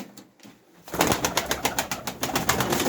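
Pigeons coo in a loft, a soft run of repeated throaty pulses that begins after a near-quiet start and continues in a steady rhythm at close range.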